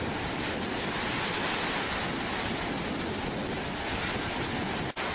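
Ocean surf on Om Beach in Gokarna, Karnataka: a dense, continuous roar of breaking waves fills the whole clip at close range, broken by one brief dropout near the end, with no voices.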